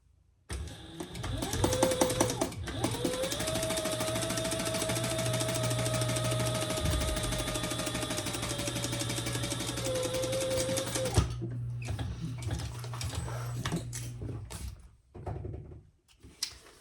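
A sewing machine runs one long, steady stitching pass, top stitching a Triskele wallet, its rapid needle clatter loud and close for roughly ten seconds before stopping, followed by quieter handling noise.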